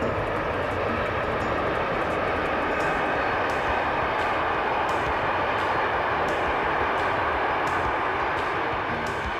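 A passenger train runs along the shore of Lake Thun in Switzerland, giving a continuous, even rolling roar with faint rhythmic clicks from the rails, heard on its own.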